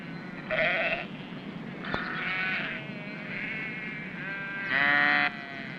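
Several sheep bleat in wavering calls, a couple of loud nearby bleats at the start and end with softer overlapping ones between, over a steady outdoor background with no talk.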